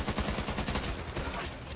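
Rapid gunfire from zombie shooting in the game Back 4 Blood, a dense, continuous volley of shots running through the whole moment at steady loudness.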